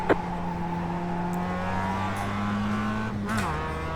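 Race cars in the iRacing video game, several engines droning steadily at high pitch with a shift in tone near the end as cars pass and jostle, loud and close without voices.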